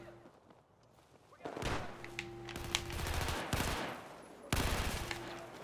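Automatic gunfire from an AEK rifle in the video game Battlefield 4, with several dense bursts of rapid shots at close range, the loudest starting midway, over a low game hum and faint background voices.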